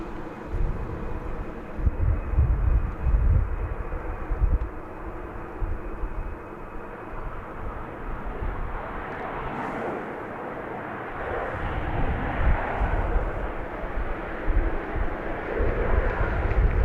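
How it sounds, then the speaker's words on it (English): A Boeing 737 MAX 8 airliner arriving from Tampa landing at Dallas Love Field, a steady loud jet roar rumbling for the whole stretch, swelling slightly toward the end, heard from a distance outdoors. "That's flight 3017, a MAX 8 coming in from Tampa"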